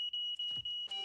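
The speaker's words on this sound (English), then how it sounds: "Smoke detector." A smoke detector beeps with a piercing, steady high tone in quick regular pulses, four short beeps in about a second, with faint low rumble beneath.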